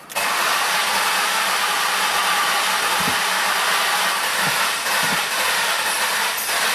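A Ford Escape engine with a crank-no-start fault cranks and catches, then runs with a loud, steady, close mechanical roar that stays constant after a brief start.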